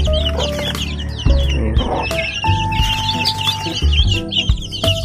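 Newly hatched chicks peep in rapid, high, overlapping chirps over a hen's soft clucking, close by and steady throughout, while a person speaks briefly.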